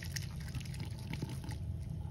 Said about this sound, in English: you're gonna have to rinse off your probe for the next solution